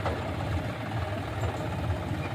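A John Deere 5105 tractor, stuck in a dolly at high altitude, running its engine at a steady low idle, a continuous rumbling drone close by with no talk.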